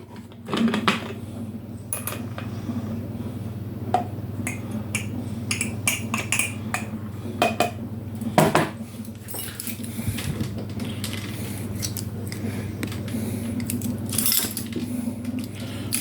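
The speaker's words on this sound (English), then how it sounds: "where did I put my spoons?" Metal spoons and cutlery clink and jangle continuously while someone rummages through them in a home kitchen, with scattered sharper clanks over a steady low hum.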